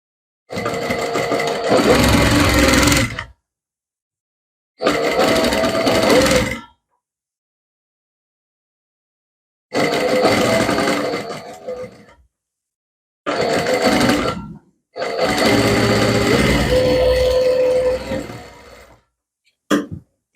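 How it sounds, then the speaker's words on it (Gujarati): A sewing machine runs a double row of stitching along a seam on a princess-cut blouse, in several loud bursts of steady whirring and stopping. "આ ડબલ સિલાઈ લાગી ગઈ"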